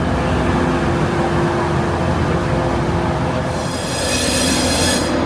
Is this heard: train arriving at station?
yes